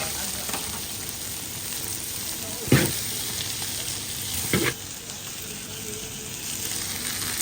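Chilies and mixed vegetables sizzle steadily in a hot pan for Manchurian bhel, a dense continuous frying hiss with two brief louder stirring scrapes midway.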